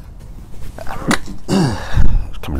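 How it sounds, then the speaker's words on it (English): A person sneezes close to a studio microphone, a sharp burst followed by a voiced exhale, with a couple of sniffs or breaths around it, loud and near in a quiet room. "Coming to the mic, so I'm going to sneeze on it."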